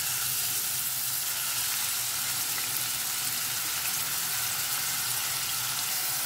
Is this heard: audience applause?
no